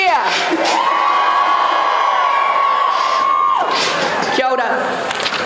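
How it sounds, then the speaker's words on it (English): Striking PPTA Wellington Region teachers at a street rally for better pay answer with a loud, sustained cheer and whoops, a dense crowd roar that swells, holds for several seconds, then breaks off. "If you are a PPTA Wellington Region member, give me a cheer."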